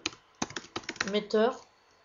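Typing on a computer keyboard, a short close burst of quick clacking keystrokes, with someone speaking French over the end.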